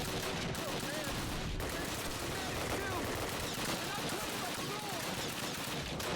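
Enemy gunfire in the 2003 Call of Duty video game, rapid bursts of rifle and machine-gun shots crackling continuously at a moderate distance, dense and sustained.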